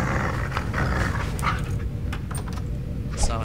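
A dog-like creature in the video game Resident Evil growls low and rough, a thick, continuous rumble that keeps going steadily across the moment without a clear break.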